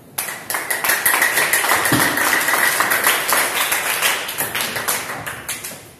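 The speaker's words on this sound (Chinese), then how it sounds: "好，鼓掌。" Students clap in a classroom, a steady stream of brisk, rhythmic clapping from a small group, fairly close and continuous for several seconds before thinning toward the end.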